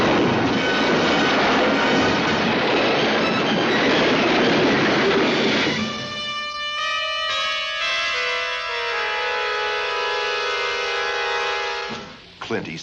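Train running on rails in a Western film trailer, loud rolling rumble with wheel squeal and tonal screeching in the second half, heard under score and a possible voice.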